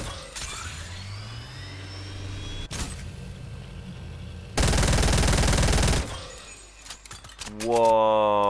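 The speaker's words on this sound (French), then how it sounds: "Pistolet mitrailleur à charge." Submachine gun fire in an Indiana Jones video game on PC, a dense sustained burst of loud rapid shots lasting over a second amid game sounds and engine-like noise.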